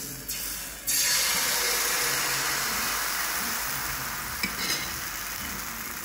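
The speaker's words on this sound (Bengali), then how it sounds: "পাটিসাপটা বানানোর জন্য যে ব্যাটারটা রেডি করেছিলাম এবার ঢেলে নেবো আমি" Patisapta batter hitting a hot oiled pan: a loud, steady, close sizzle bursts in after a brief quiet start and holds continuously, with a faint scrape partway through.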